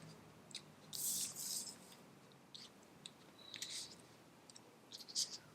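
Tarot cards set down on a surface, a few soft, crisp taps and slides spaced apart, quiet and close, with no talking.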